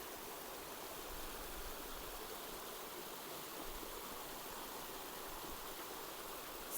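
Clear mountain stream of winter-low water flowing steadily, a continuous broadband rush and babble with no voices, heard close and even throughout.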